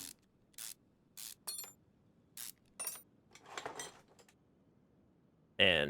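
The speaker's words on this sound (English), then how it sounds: "Little WD-40 there." Short aerosol hisses of WD-40 sprayed onto car suspension parts, front knuckle and arm, in Car Mechanic Simulator 2021: several brief bursts in a row, then a louder clattering mechanical sound at the end, no talking.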